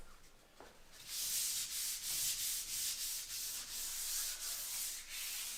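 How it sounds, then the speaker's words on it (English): A metal stair railing cap is sanded by hand with 220-grit sandpaper, giving a close, steady rhythmic rasp of back-and-forth strokes that starts after a brief quiet moment and continues to the end. "Got a little 220 sandpaper."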